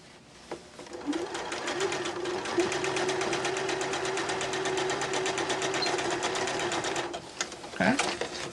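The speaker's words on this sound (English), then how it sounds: "take it back to your machine and stitch straight across" Sewing machine stitching straight across a seam on a beginner fabric bag, a fast steady rhythmic whir close up for several seconds, starting and stopping with light handling sounds.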